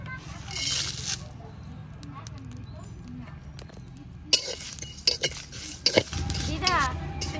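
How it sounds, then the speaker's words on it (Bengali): Cumin, coriander, bay leaf and dried chillies dry-roasting in a pan, soft rustling and stirring with a few metallic clinks, close and moderately quiet, with some voices in the background. "আমরা জিরে, ধনে, তেজপাতা, শুকনো লঙ্কা এগুলো কাঠখোলায় ভেজে নেব।"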